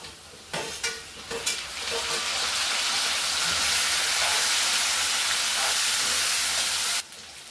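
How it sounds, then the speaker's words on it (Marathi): Potatoes and tomatoes frying in hot oil for a potato-cabbage dish give a loud, steady close-up sizzle, with a few stirring clatters at the start and the hiss cutting off sharply near the end. "आता बटाटा आपला तेलात चांगला पैकी परतून झालाय। आता त्यात आपण टोमॅटो टाकूया।"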